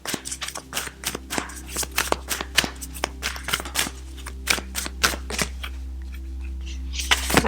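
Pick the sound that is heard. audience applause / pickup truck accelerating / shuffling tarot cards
shuffling tarot cards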